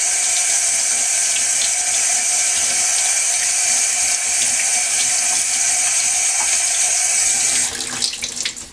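A water tap runs hard and steady into a sink while plastic model kit parts are washed, a loud, close, continuous gush that tails off with brief splashing near the end.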